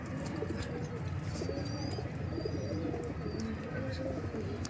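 Teddy breeder pigeons coo softly in a steady background of low murmuring calls, with faint chirps and a constant hum throughout.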